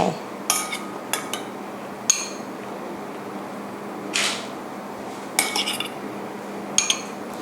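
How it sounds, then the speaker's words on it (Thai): A spoon scoops cantaloupe into a sago dessert, giving scattered sharp metallic clinks and taps against a bowl, a few isolated hits and then small clusters, close over a faint steady room hum. "เสร็จแล้วนะคะเราก็จะตักแคนตาลูปนะคะใส่ลงไป"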